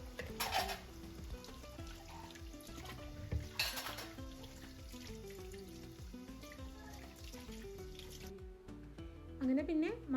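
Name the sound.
washing dishes with water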